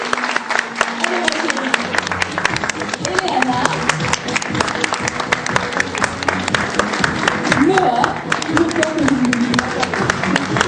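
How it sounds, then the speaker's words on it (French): Guests at a wedding fair in Ressons-sur-Matz in October 2013 applaud the child models with continuous clapping throughout, while a nearby announcer's voice calls out over it. "Applaudissez à Chloé."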